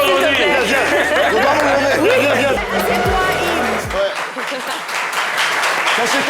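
Studio audience on a French live talk show applauding loudly for a guest, with chatter and laughter mixed in, a presenter's voice heard over the clapping.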